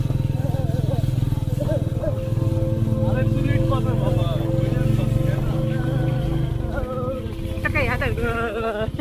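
A Royal Enfield Meteor motorcycle rides a narrow, muddy road in bad condition, its steady engine thrum continuous and close throughout, with voices talking over it.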